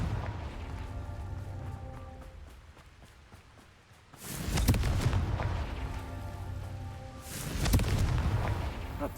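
Two heavy booming blasts from the Confringo fire spell in the Hogwarts Legacy video game, each a sudden loud burst that decays slowly, the first around mid-clip and the second near the end, over a low ambient game background.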